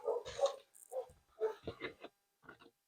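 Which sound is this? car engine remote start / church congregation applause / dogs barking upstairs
dogs barking upstairs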